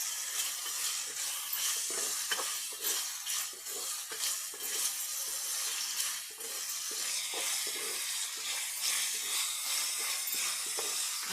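Whole spices such as cloves, bay leaf, star anise, cinnamon and shahi jeera sizzle in hot oil with a steady bright hiss, broken by repeated scraping strokes of a spoon stirring the pan, close and continuous without speech.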